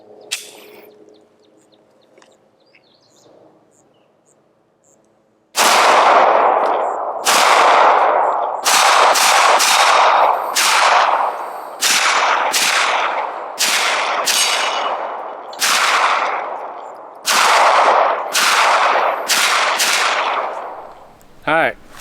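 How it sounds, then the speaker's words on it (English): A highly customized Glock 19 pistol fires roughly a dozen loud, close shots outdoors, some in quick pairs and others spaced apart, each crack ringing out briefly before the next, with a lone trailing pop at the end. "just got done shooting this Glock. It's a highly custom Glock."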